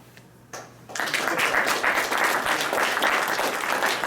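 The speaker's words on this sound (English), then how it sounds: "I got some applause afterwards as well" An audience at a tech meetup breaks into applause after a talk, starting softly after a brief pause and swelling into steady, dense clapping that continues to the end.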